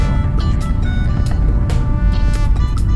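A manual BMW 650i Gran Coupe engine drones loudly from inside the cabin through a gear shift, with a continuous low rumble and faint rising and falling engine tones.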